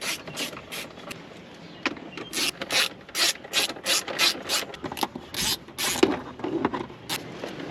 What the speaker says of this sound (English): Super awesome little ratchet.